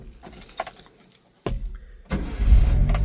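A mini truck's carbureted engine is cold-cranked; keys jangle first, then a brief crank catches and the engine settles into a loud, rumbling idle close by.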